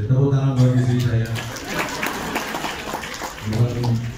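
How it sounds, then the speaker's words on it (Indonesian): Audience clapping and light laughter at a comedy show for the comedian's wife, a short scattered burst of applause between stretches of a voice. "Tepuk tangan buat istri saya."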